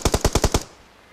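Rapid burst of about six automatic gunshots in the mobile battle-royale game PUBG Mobile, loud and close, evenly spaced, then cutting off to near silence.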